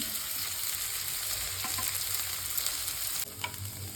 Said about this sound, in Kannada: ಈಗ ಈರುಳ್ಳಿ ಫ್ರೈ ಆಗ್ತಾಯಿದೆ